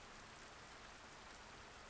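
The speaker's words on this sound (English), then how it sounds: "Outside, there's the sound of rain." Steady rain falls outside, a soft, even hiss with no pauses, quiet ambience from the Tsukihime remake visual novel.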